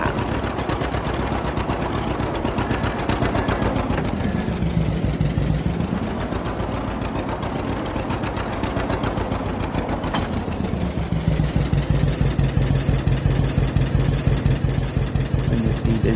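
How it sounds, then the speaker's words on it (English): Tractor engine in Farming Simulator 22, pulling a fertilizer tank: a loud, continuous chugging diesel idle with a rapid pulsing rhythm, its pitch dipping and rising as the revs change, with no talking over it. "This is how tractors should sound."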